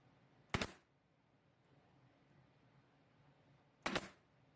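A pin nailer firing pin nails into a wooden rolling rack: two sharp, separate bangs about three seconds apart, close up, with quiet room noise between them.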